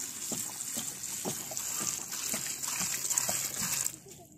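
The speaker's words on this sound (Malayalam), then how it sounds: "വെള്ളം പോരാ, വെള്ളം കുറച്ചും കൂടി." Water splashes and trickles steadily into a pot of taro biryani cooking with okra, capsicum, green chilli and ginger. A continuous hissy pour stays close for about four seconds, then cuts off.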